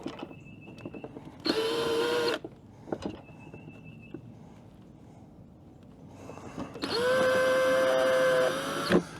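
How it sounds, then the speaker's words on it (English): A power drill with a 1-inch bit whines in two bursts, a short one and then a longer run, steady and close, with quiet pauses between, drilling a hole for fender flares on a Sprinter van. "we're going to take this drill, 1-inch drill bit, line it up, and drill a hole"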